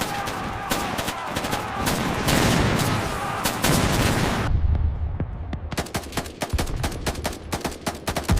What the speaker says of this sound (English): The M240 opens fire. Tracers cut through the darkness.